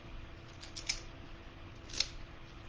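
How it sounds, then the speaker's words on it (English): Scissors cut folded paper in two crisp, quiet snips about a second apart over a low background hum. "oh, my scissors keep locking up."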